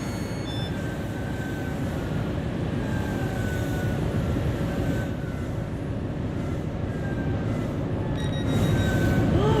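An HST high-speed train passing in the Train Sim World 6 game, a steady, dense roaring rumble that holds throughout and swells slightly toward the end, with no talking.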